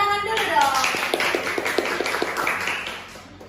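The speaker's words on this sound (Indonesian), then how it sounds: "Tepuk tangan dulu dong." An audience of high-school students claps on cue during a school podcast recording. A voice is heard at the start, then scattered hand claps patter for a few seconds and fade out.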